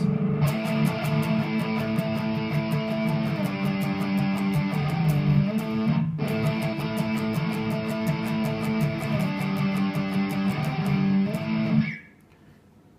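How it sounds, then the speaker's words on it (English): An open, ringing distorted electric guitar playing a riff without palm muting, chugging steadily for about twelve seconds, notes sustaining freely, then stopping abruptly. "play the same riff without actually palm muting it until you get the palm muting down pat"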